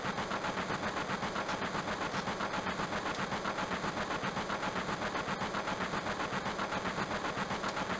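A steady train engine rumble in Final Fantasy VII plays as a continuous, even, mid-loud hum with a faint rhythmic pulse, alone and without talk.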